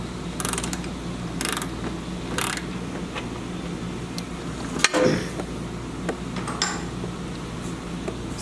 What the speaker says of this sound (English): So just going to take this bolt out, and I'm just going to pop it right back into place